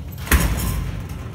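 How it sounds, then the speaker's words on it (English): The inner door of a modernized old Otis freight elevator bangs once sharply, followed by a brief rattling rumble that fades out. "Inner door slams open and shut."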